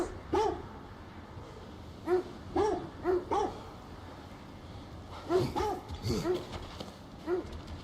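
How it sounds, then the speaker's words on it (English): A dog barks in short bursts, several spaced single woofs and then a quicker run of barks near the end, close and fairly loud above a steady low background. "Who are you barking at?"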